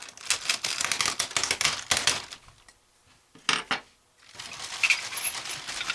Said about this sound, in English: let's open up this here bag of parts and see what's inside